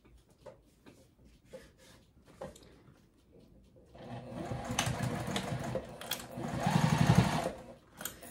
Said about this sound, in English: you might want to go slow on the domestic machine